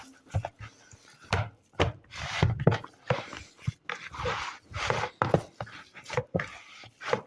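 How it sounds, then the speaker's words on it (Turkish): Apple cookie dough being kneaded by hand, a rhythmic series of soft pressing, rubbing and slapping sounds, close and moderately loud, with short pauses between strokes. "Arkadaşlar hamurumu yoğuruyorum."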